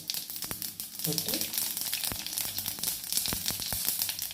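Fennel seeds crackle and sizzle in hot oil with steady spitting pops, close and fairly loud, with some faint voice underneath.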